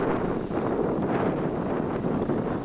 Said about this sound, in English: the wind is wreaking havoc